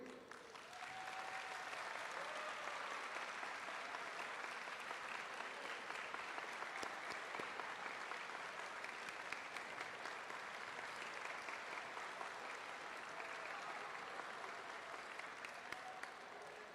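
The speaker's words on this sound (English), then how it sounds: "I want us all to give a warm applause" Audience at a high school state basketball title celebration breaking into sustained, even applause that carries on for well over ten seconds, heard from within the crowd.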